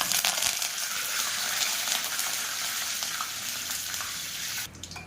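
Curry leaves sizzle loudly in hot oil in a frying pan for tomato curry, a dense continuous hiss that eases off near the end, no talk.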